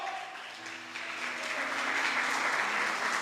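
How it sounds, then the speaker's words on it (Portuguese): A church congregation applauds, a broad crowd of hands clapping that swells and grows fuller over a few seconds, with faint sustained tones in the background. "Será que alguém pode aplaudir ao Senhor?"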